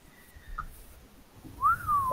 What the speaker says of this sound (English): You are better at whistling than me.